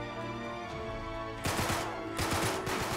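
Gunfire in the video game Uncharted 3: a weapon fires in rapid bursts, two loud clusters of sharp shots after a quieter stretch of background game sound.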